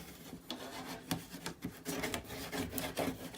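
Bone folder rubbing down folded paper on a tissue box craft, a close scraping rasp repeated in short back-and-forth strokes with a steady rhythm.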